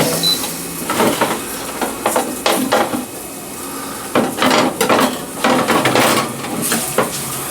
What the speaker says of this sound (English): I'll put that in the convection oven